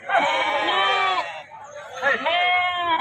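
Sheep and lambs bleat at a livestock market where young lambs and a few adult sheep are penned for sale. Two long, loud, wavering bleats follow each other close up, with a short pause between them.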